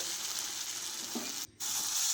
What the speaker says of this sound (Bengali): ভাজা মশলার সাথে সবজিগুলো ভালোভাবে মাখিয়ে নিতে হবে